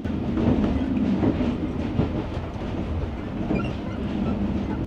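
The Bandhan Express passenger train runs on rails between Khulna and Kolkata, a close, continuous rumble with rhythmic clickety-clack from the wheels and no talk over it.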